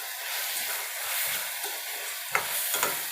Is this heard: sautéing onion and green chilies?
yes